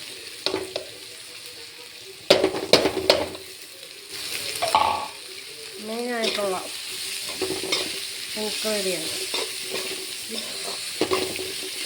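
Prawns frying in hot oil for a Kerala-style prawn roast, with a steady close sizzle broken by scraping stirs and clatter, and someone speaking briefly over it.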